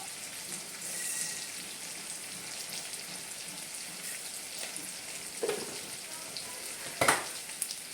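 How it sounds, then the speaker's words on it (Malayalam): Mustard seeds spluttering and crackling in hot coconut oil in a pan, a steady close sizzle with a few sharper pops and clatters near the end, no talking. "വെളിച്ചെണ്ണ നല്ലതുപോലെ ചൂടായിട്ട് വന്നപ്പോഴേക്കും ഇതിലേക്ക് ഒരു ടേബിൾ സ്പൂണോളം കടുകിട്ട് കൊടുക്കുന്നുണ്ട്"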